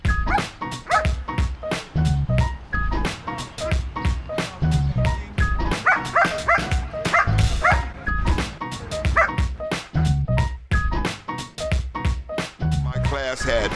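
A dog barks and yips in rapid, repeated bursts during bite-work training, loud and close, with someone talking over much of it.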